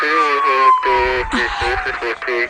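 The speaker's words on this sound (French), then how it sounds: "Il y a une ambulance qui arrive." A wailing ambulance siren in a cartoon rises and falls steadily throughout, with overlapping voices and some low rumbling underneath.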